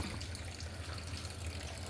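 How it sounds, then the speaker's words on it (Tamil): A faint, steady trickle of sewage water runs continuously from a house onto a residential street, with no voices. "இந்த வீடு பாருங்கள், கழிவுநீர் தண்ணி சாலையிலே விட்டுருக்காங்க"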